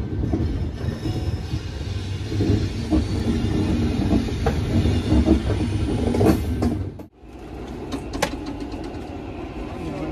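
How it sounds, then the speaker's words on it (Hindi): A passenger train bound for Nainital pulls out of Dehradun railway station with a steady rumble, wheel clatter and occasional squeals. The noise drops briefly and then resumes, loud and close. "और ट्रेन खुल चुकी है"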